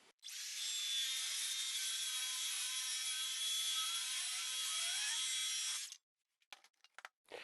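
Circular saw with a homemade guide fence ripping along the full length of a plywood sheet, a steady high whining cut lasting nearly six seconds before the blade stops, followed by a few scattered knocks and clatters.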